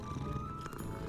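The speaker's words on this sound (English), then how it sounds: "Yeah, the purring is perfect." A cat purrs in Hogwarts Legacy, a steady low rumble held close and loud for a brief moment with no talk over it.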